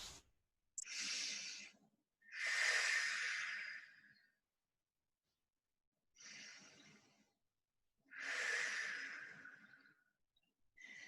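Someone lies on the floor in a supine stretching exercise and takes slow, deep audible breaths. Four long, airy inhales and exhales come close to the mic with quiet pauses between them.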